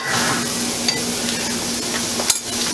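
Butter melting in a hot pan for cauliflower rice with shrimp, giving a steady, dense sizzle with a faint hum beneath and one small clink near the end.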